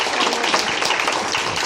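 An audience at a show applauds the three guests, a dense, steady burst of many hands clapping at close range, filling the short moment without pause.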